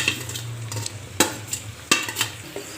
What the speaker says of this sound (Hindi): इसको ना मतलब इसको ऐड करके अच्छे से हम मिक्स करेंगे।